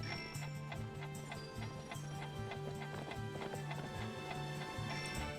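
Rhythmic clip-clop of horse hooves galloping at a steady pace in the video game Barbie Horse Adventures: Wild Horse Rescue, with game music underneath.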